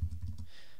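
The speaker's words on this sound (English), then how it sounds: "You start typing" A few quick, faint keystrokes tapping on a computer keyboard in a rapid rhythm, brief and quiet.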